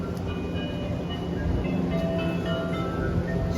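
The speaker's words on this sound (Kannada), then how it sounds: "ನೋಡ್ಬೋದು, ನಾನು ಆವಾಗ ಬಂದಿದ್ದ ಟ್ರೈನ್ ಹೀಗಿದೆ." A train stands at a station in Japan with a steady, moderately loud hum of idling equipment and faint tonal whines.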